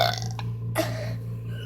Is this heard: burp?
yes